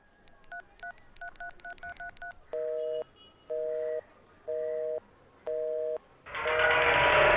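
A rapid series of short telephone keypad tones, followed by four longer evenly spaced ringback tones, then a burst of loud static.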